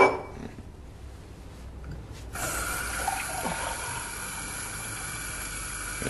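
Water pours into a glass as a steady, close trickling splash that begins after a couple of seconds of quiet and continues evenly to the end.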